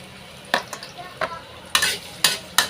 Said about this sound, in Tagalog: Sasagay na po natin ang luya